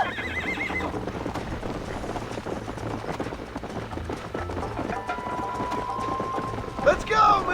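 A horse in the video game Red Dead Redemption gallops with rapid clip-clop hoofbeats and gives a neigh near the end, heard over game music and spoken dialogue.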